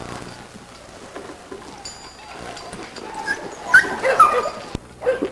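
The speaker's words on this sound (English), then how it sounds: "this is the dog we call Mabel" A dog about 19 or 20 months old whimpers and lets out a few high yips toward the end, close by, over faint background noise.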